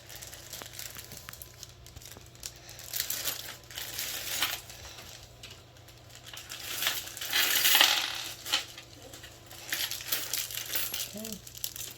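Small metal fan screws from a Cooler Master ML120L RGB V2 cooler kit clink and rattle as they are handled close up, along with crinkling of a plastic bag and soft handling noises.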